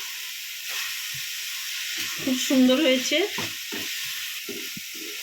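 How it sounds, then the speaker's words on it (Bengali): Chicken pieces sizzling and frying in a kadai with onions for dhaba-style chicken bharta, a steady hiss broken by scraping stirs and a louder spattering burst midway, close by, with a brief spoken phrase. "এবার চিকেনটা দিয়ে দিলাম, দিয়ে ভালো করে একটু ভাজা ভাজা করব।"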